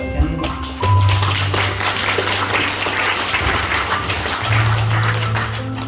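Dense, sustained applause fills the hall at a Korean memorial service for a pastor, close and loud with a low hum underneath and a brief surge partway through.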